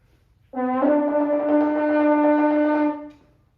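A single sustained French horn note, an A, steady and clear, held for about two and a half seconds before fading out, with no other sound around it.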